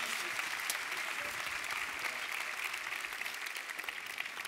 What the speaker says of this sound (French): on peut applaudir donc nos invités s'il vous plaît